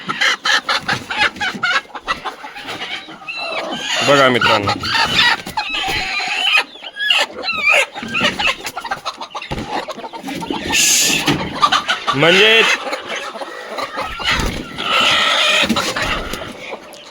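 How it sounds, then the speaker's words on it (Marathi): Broody hens clucking repeatedly at close range, with a few squawks, while someone talks over them. "ही बघा ही एक खुडूक कोंबडी अजून"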